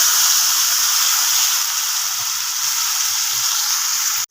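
Ground onion-tomato paste hits hot oil in a kadai with a loud, steady, close hiss of sizzling that holds evenly for several seconds before cutting off abruptly, with no one speaking.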